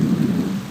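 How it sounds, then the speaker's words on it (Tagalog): Heavy rain pours down in a dense, steady roar, loud and close with a deep low rumble, in a very brief burst. "Ang lakas ng ulan."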